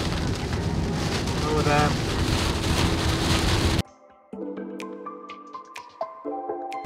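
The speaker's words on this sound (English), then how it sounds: "It's raining extremely" Heavy rain pelts a car driving through Germany, a dense roaring wash of water and road noise that cuts off abruptly midway, leaving a quiet cabin with soft tones; a man briefly exclaims during the downpour.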